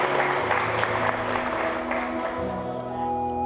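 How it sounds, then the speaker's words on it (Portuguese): A church congregation claps during a worship service, with the applause blended into sustained music and organ-like tones that run throughout. "Pode aplaudir a Jesus, pode aplaudir a Jesus."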